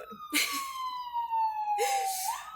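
A wailing ambulance siren sweeps slowly downward and back, loud and close, with brief bursts of noise around it.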